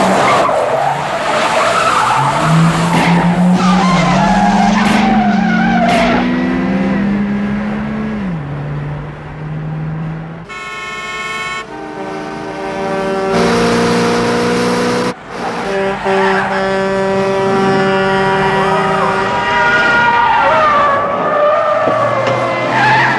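Car chase from the film To Live and Die in L.A., with loud revving engines, shifting gears and long screeching tire skids, punctuated by a brief sharp squeal and continued roaring acceleration.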